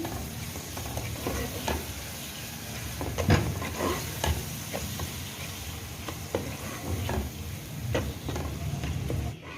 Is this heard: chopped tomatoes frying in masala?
yes